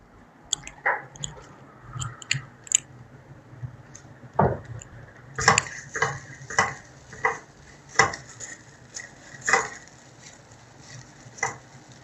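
Onion and grated coconut being stirred in a pan for quinoa upma, a run of close, irregular wet scrapes and soft knocks of a spoon against the pan, alone with no talk.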